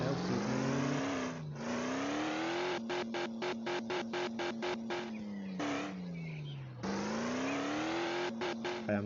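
Car engine revving in a 3D game played on a phone, with a synthetic engine tone that rises and falls and stutters in rapid rhythmic bursts, loud and steady throughout with no talking.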